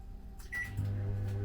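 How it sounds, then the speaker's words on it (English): A microwave oven cooking honeycomb candy starts up with a door clunk and a short beep, then settles into a steady low electrical hum that fills the rest of the clip. "I'm going to put this in the microwave and I'm going to set it for 4 minutes"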